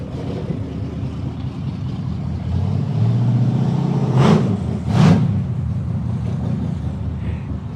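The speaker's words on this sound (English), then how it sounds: "we're going to let a loud car go by real quick here" A loud car driving past outdoors, a rising and falling roar of engine and road noise lasting several seconds, with wind rumble on the microphone and no speech.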